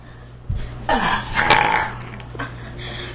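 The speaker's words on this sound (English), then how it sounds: "Do a monster burp this time." A boy lets out a loud, drawn-out monster burp, close and rough, with a couple of shorter guttural bursts trailing after it.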